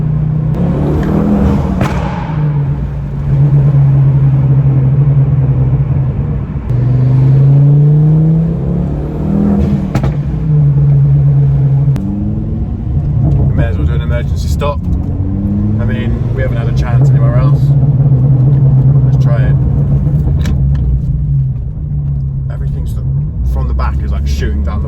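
A Mk2 Ford Focus ST accelerates hard in second gear, its engine droning and rising in pitch with loud road rumble inside the car, while someone talks throughout.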